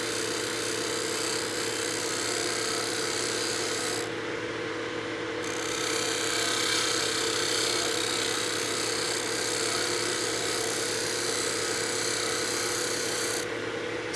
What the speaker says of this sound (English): And now we should be able to shear scrape this nice and clean.